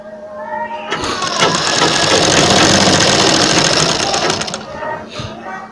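A sewing machine stitching a net slip runs loud and steady for about four seconds, its rapid mechanical whir starting abruptly after a short quiet lead-in and stopping near the end.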